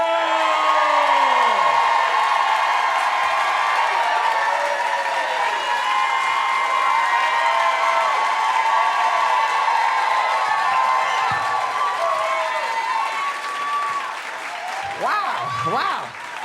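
An audience applauds and cheers loudly for comedian Murray Hill, a continuous wash of clapping with whoops and shouts layered over it that stays strong throughout and fades only slightly toward the end.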